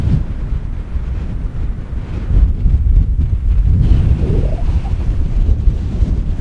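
Strong wind in South Dakota buffets the microphone in a steady, heavy low roar that swells and stays loud throughout, with no voices.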